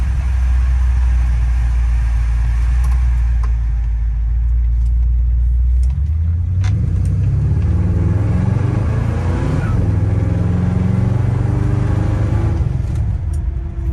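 A 1963 Chevrolet Impala engine idles with a deep, loud rumble, then revs and pulls away on a test drive, its pitch climbing and dropping through several gear changes close to the microphone.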